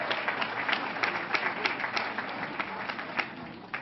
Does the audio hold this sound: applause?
yes